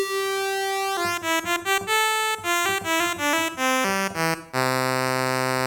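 A Behringer Odyssey analog synthesizer holds a sustained tone that moves through a quick run of shifting notes, then settles into a long, bright held chord with a string-like buzz.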